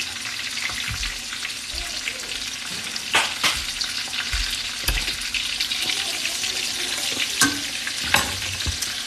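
Pork cutlets fry in vegetable oil with a loud, constant sizzle, broken by occasional sharp clatters and scrapes as the pan is worked.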